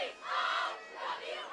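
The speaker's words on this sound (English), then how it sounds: "The crowd's into it." Spectators at a high school football game, Durfee vs. Fairhaven, cheer and yell in two swelling waves, heard from a distance and fairly faint.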